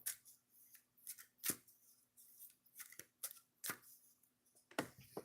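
An oracle card deck is shuffled by hand close up, soft papery slides broken by several sharp snapping taps at irregular intervals, quiet overall.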